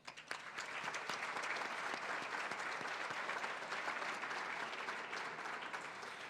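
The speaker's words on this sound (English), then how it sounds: "Please join me in a warm round of applause for all of them." A large audience at a civic forum breaks into sustained, dense applause that holds steady and even for its full length.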